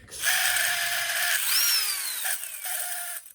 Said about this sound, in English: This motor sounds pretty bad.